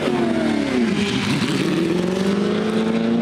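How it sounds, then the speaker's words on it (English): A 1962 Ferrari race car pulls away in the pits at the Rolex 24 at Daytona, its loud engine note sweeping and revving steadily close by, with no talking. "I'll just let this car go by. This is the 62 Ferrari about to leave."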